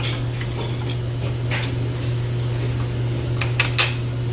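A spoon scraping and clinking against a bowl while cinnamon, salt and sugar are mixed, with light irregular taps over a steady low hum.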